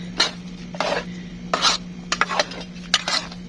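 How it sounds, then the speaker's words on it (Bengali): A spoon stirs goat meat curry with tomatoes and potatoes in a cooking pot, producing several scraping, rasping strokes against the metal with short gaps between them, close and clear. "ভালো করে আমি নাড়িয়ে নেব"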